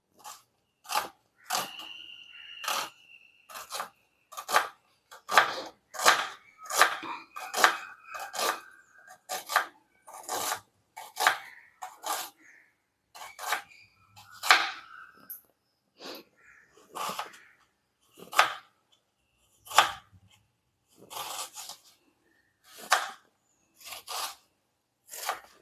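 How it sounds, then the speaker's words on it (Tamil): Onion, tomato and coriander being chopped finely with a knife, a long run of sharp knife taps on a board in uneven bursts, close and crisp with short pauses, no talking. "பொடிசாக நல்லா சாப் பண்ணிக்கோங்க"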